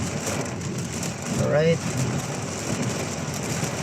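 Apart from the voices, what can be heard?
heavy rain in Manila street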